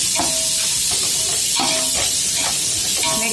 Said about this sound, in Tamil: கேரட் பீன்ஸ் போட்டு வதக்கி போகிறேன்